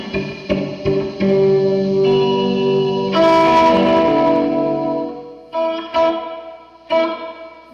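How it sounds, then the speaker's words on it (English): Electric guitar played through a Meris Mercury X pedal set to spring reverb, sustained chords ringing into a dense, shimmering wash, then a few short plucked notes near the end with splashy reverb tails, no talking. "Great sounding spring reverb."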